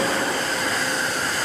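Close and loud, a retro train on the Ryutetsu Nagareyama line gives off a dense, steady rumble with no breaks and no voices.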